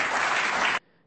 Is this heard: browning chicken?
no